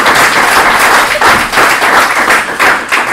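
An audience claps during speeches at a Galopade 2017 press conference, producing dense, steady applause with slight rhythmic surges for a few seconds and no talking.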